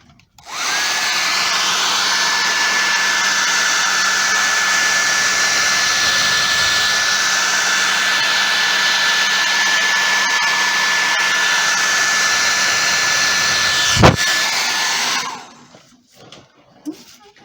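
A hair dryer blows across freshly poured paint, a loud, steady whirring roar with a constant whine that runs unbroken for about fifteen seconds, then a sharp click as it switches off and the sound dies away.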